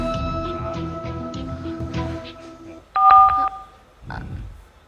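A telephone keypad gives a short burst of clear, loud dialing tones near the middle, after a stretch of background talk and tonal sound, followed by a quieter murmur.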